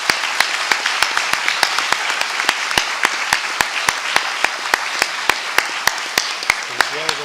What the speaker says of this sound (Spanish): si se unen conmigo, por favor, para darles un aplauso a los panelistas y al autor del libro